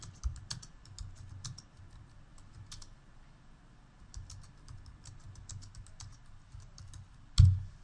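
Text being typed on a computer keyboard for a text object in the ZebraZapps authoring tool: close, quiet, irregular runs of key clicks in two bursts, ending with one louder click.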